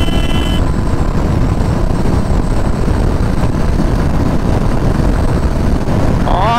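A Royal Enfield Classic 350 motorcycle on an open road, with a steady, loud engine drone and rushing wind as it pulls up through speed, with a slight misfire noted, continuous throughout.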